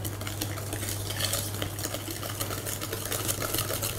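Whole eggs and milk being mixed for a pascade batter, a close, steady whisking and scraping against a bowl with quick repeated strokes under a low hum, no talking.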